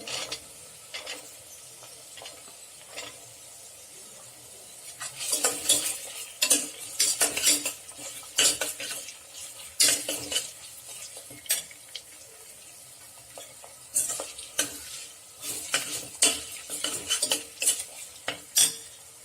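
Carrots and beans being sautéed for vegetable biryani, with a utensil scraping and clattering repeatedly against the pan in bursts of stirring, close and fairly loud over a soft background.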